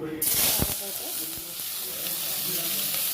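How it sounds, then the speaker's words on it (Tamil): Onions, green chillies, ginger-garlic paste and curry leaves sautéing in oil in a kadai for roadside kaalan: a burst of loud sizzle as ingredients hit the oil, then a steady close frying hiss with a few stirring knocks. "பச்சை மிளகாய் 2 போட்டுட்டு இஞ்சி பூண்டு பேஸ்ட்டு 1 ஸ்பூன் போட்டுட்டு கருவேப்பிலை போட்டுட்டு நல்லா வதக்கிட்டுருக்கோம்"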